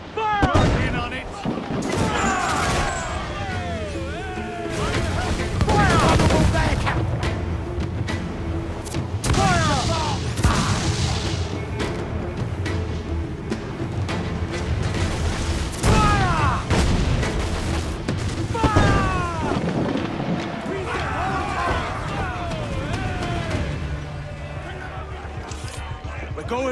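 Naval battle in Assassin's Creed IV: Black Flag, with heavy cannon fire booming repeatedly amid crackling gunfire, shouting voices and dense battle din throughout.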